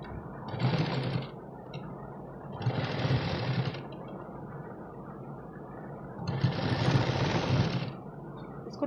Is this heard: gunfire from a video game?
no